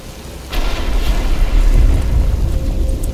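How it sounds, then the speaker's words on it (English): Steady rain pours in the Batman Arkham Asylum video game, a dense, loud wash of noise with a deep rumbling low end, swelling after a quieter start and continuing without speech. "But it's starting to rain."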